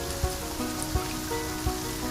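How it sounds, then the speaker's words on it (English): A torrential downpour makes a soft, steady rain hiss at low volume. A few faint thuds land at roughly regular intervals underneath the rain. "The water transformed into countless droplets, which rose into the sky and finally turned into a torrential downpour"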